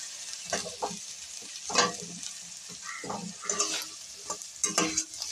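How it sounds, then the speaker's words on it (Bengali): Bele fish fries in a pan, with a bright, close sizzle under bursts of stirring and spatula scraping that come in short uneven clusters. "দেখুন আমার মাছ ভাজা হয়ে গেছে"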